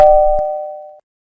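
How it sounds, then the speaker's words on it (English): A cartoon doorbell gives a single clear chime that rings out and fades over about a second before cutting to silence. "There's a bell."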